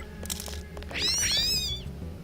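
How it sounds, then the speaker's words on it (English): A cat in the video game Deus Ex gives a few short meows, the clearest a rising, drawn-out call near the middle, close and distinct over faint background hum. "Kitty cat."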